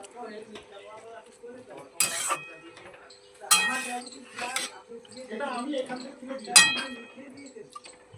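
Spinach being mixed into vegetables in a pot for a light spinach curry: a few sharp metallic clinks and scrapes of a utensil against the pot, spaced irregularly, over a quiet bed of softer clatter.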